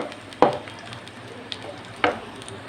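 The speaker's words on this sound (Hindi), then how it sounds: "इसको हमने 3-4 मिनट के लिए इसमें फ्राई करना है घी में" Carrot pieces frying in ghee in a pan, a steady soft sizzle broken by a few sharp scrapes and clinks from stirring.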